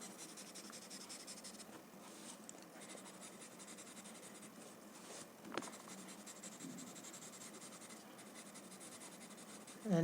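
A chalk pencil drawing on paper, with steady scratchy strokes running continuously and close up, a brief louder stroke midway, and no talking.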